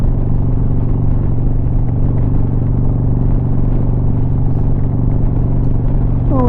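A motorcycle cruises over the Skyway Bridge during St. Pete bikefest, a loud, constant engine rumble mixed with wind buffeting, steady throughout without talk.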